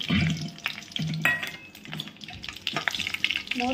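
Mustard seeds and curry leaves crackle and sizzle in hot oil in a pan, close up, with a dense, lively frying hiss broken by small pops and stirring clatter, and no voices.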